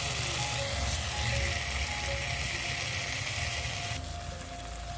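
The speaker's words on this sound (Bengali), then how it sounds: "এবার আমি দিয়ে দেবো ভেজে রাখা পনিরগুলো।" Fried paneer and peas stir-fried in spiced oil, a broad steady sizzle and scraping rattle running throughout, close and continuous, with no voices.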